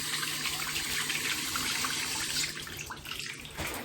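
Tap water running steadily into a sink, wetting a Swiss lace hairpiece, a constant close splashing hiss that eases slightly near the end, with no speech.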